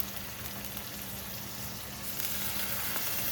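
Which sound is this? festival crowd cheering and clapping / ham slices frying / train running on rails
ham slices frying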